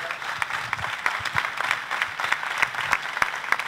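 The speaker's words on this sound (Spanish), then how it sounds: "Un aplauso para esta gente." An audience at a presentation on a millennium sounding balloon project applauds steadily, dense overlapping claps with a few sharper ones standing out, sustained throughout at moderate distance with no voices on top.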